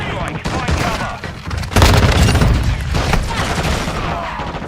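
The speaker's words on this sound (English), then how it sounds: "Enemy precision airstrike. Find cover." An enemy precision airstrike in a video game brings loud, dense explosions and bursts of rapid gunfire, with heavy booms swelling midway and a constant barrage around them.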